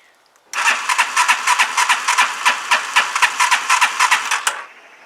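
Zontes Tiger 125 motorcycle engine cranking over, loud close rhythmic pulses of the starter churning steadily for about four seconds before dropping off to a faint hum.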